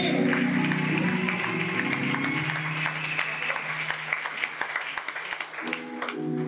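A church congregation claps loudly for the Holy Spirit during a sermon, the applause starting dense and crowd-like, then thinning into scattered claps alongside music and some voices.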